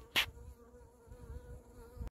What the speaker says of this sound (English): the wasp is out of the hive, rather a large wasp